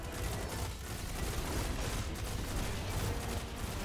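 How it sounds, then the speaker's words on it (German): Rapid gunfire in the video game Destiny 2 as a full magazine is emptied, a dense continuous barrage of shots over steady background game noise with no talking. "Ich knall mal mit dem Magazin auf den drauf."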